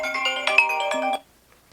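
A mobile phone ringtone from an incoming call plays a short bright melodic jingle for about a second, then stops abruptly into near silence.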